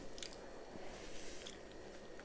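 Someone eating a spicy beef shawarma with vegetables, soft close chewing and biting with wet squishy sounds, faint and continuous with no talking.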